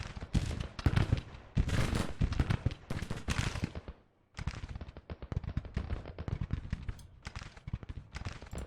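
Massed musket volleys and cannon fire rattle in bursts across a Civil War battle in the Grand Tactician strategy game, with rapid crackling shots and heavy booms, a brief lull midway before the firing resumes.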